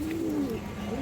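A female pigeon of a high-quality Pakistani breed coos softly nearby in a low rolling call, with faint background noise and no talk.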